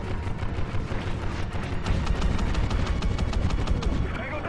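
Heavy automatic gunfire from Call of Duty: Ghosts in the campaign Infiltration mission, with continuous loud rattling bursts and booms throughout, no talk over it.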